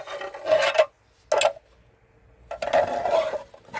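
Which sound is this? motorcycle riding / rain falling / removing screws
removing screws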